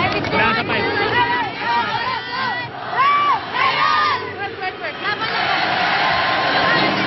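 Large crowd in an arena in San Juan roaring and chanting at a UST versus La Salle volleyball game, with rising shouted cheers and rhythmic chants over a dense babble of voices.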